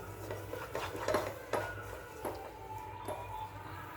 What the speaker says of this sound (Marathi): हे हलवत राहायचे जोपर्यंत घट्ट होत नाही तोपर्यंत